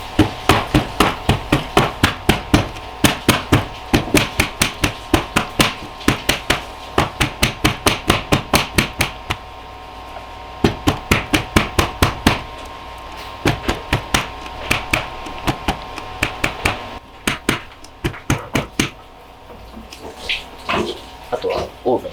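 A pan of tamagoyaki egg batter is banged down again and again in quick bursts of sharp, loud knocks, pausing between rounds, with a voice speaking now and then between the impacts.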